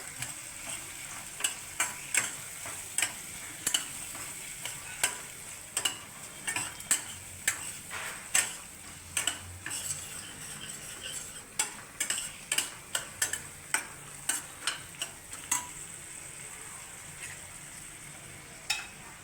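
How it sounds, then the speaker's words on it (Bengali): A spoon stirs potol dolma filling in a pan with a steady run of sharp scraping clicks, close and fairly loud, over a faint background sizzle; no one speaks. "এবার আবার মিশিয়ে নেবো ভালো করে।"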